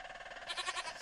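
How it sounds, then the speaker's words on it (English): Goat in a modded Minecraft-style video game: one short, nasal bleat lasting about a second, close and fairly quiet. "Hello, goat."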